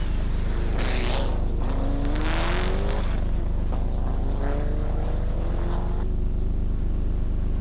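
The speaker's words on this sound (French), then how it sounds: "William Macias pousse sa Ford Sierra 4 motrices au maximum de ses possibilités" Ford Sierra four-wheel-drive rally car pushed hard on a dry road, its engine revving loud and steady with rising and falling pitch through gear changes, no talk over it.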